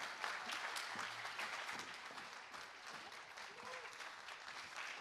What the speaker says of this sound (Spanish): den un aplauso a Sofía Macías